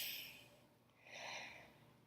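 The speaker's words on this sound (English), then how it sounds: "So you'll take a deep breath." A slow, quiet breath drawn in and released during a calm relaxation exercise, a soft airy inhale followed by a gentle exhale, close and alone with no talking.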